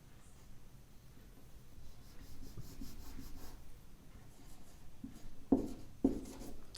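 A pen scratches softly as someone writes notes by hand during a Hindi grammar lesson. The faint, close strokes come in short, irregular bursts, ending with a couple of sharper taps.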